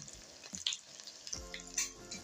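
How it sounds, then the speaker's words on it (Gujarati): Green chillies for dahi marcha fry slowly in oil over a low flame, giving a soft, quiet sizzle with light crackles and small pops throughout. "બે મિનિટ પછી તમે જોવો તો આપણા મરચાં સરસ રીતના તળાઈ ગયા છે"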